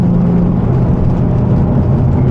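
A car cruises along an American highway in a video game, its steady engine drone and road whir holding at a constant, fairly loud level with no speech.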